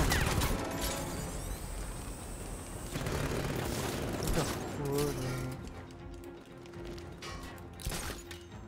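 Gunfire and mechanical booms ring out in the video game Batman: Arkham Knight, layered with game music and effects. The shots come in bursts over several seconds, with a voice talking intermittently.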